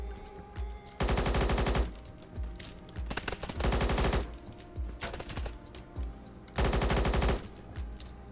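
An AI-generated weapon in the Roblox game Blackhawk Rescue Mission 5 fires loud, close automatic bursts, three long dense stretches of rapid shots with scattered single shots and game noise between them.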